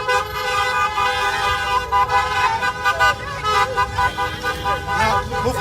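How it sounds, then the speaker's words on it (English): Several car horns toot repeatedly in busy street traffic, loud and close, with short overlapping blasts under a constant engine and road hum. "We still have youths blasting their horns."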